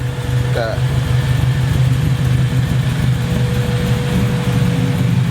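A car engine with an idling fault idles with a low rumbling hum, loud and close, with a brief faint chirp early on.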